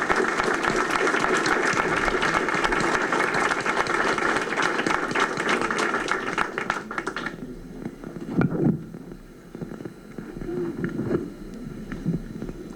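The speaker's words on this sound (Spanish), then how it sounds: "Les pido un fuerte aplauso para Elena Poniatowska." An audience applauds writer Elena Poniatowska at a cultural talk; the clapping is steady for several seconds, then thins out into scattered claps and room noise with a few low thumps.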